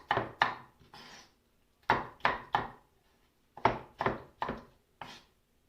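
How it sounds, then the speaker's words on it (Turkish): Knife dicing peeled tomatoes into cubes on a wooden board: crisp, close chops in small bursts of two to four, separated by brief pauses, with no talking. "küp küp doğrayacağız."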